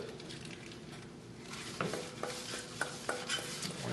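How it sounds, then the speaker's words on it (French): Wet ingredients poured and stirred into dry banana bread batter in a bowl, soft close scraping and sloshing of a mixing spoon with a few light clinks against the bowl, quiet and steady. "je vais verser mes ingrédients liquides dans le centre en mélangeant tranquillement au fur et à mesure que je rajoute"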